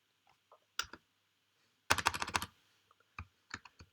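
Typing on a computer keyboard in short bursts: scattered single key clicks, then a quick rapid run of keystrokes in the middle, followed by a few more separate taps, close and crisp against near silence.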